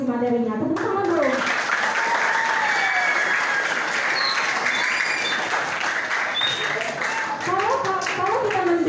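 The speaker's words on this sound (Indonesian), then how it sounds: "Tepuk tangan bro." An audience at a junior high school event in Indonesia breaks into sustained applause, loud and dense for several seconds, with a voice speaking just before and just after.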